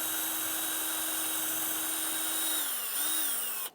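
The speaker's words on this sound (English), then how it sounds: "Go ahead and drill my pilot screw." A power drill drives a pilot screw, whining at a steady pitch for several seconds, then slows and dips briefly before speeding up again and cutting off.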